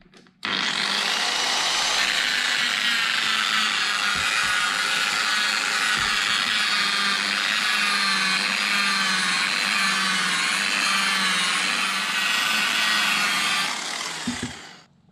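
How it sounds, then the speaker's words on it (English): A car polishing buffer works compound over scratches on a front fender, giving a steady, loud whirring drone that runs unbroken for about fourteen seconds before winding down at the end. "we'll get the buffer out and buff some scratches off"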